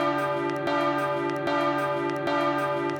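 Church bells ring in the market square of Ecommoy, a steady sequence of resonant strikes with long overlapping tones, moderately close, with no one talking.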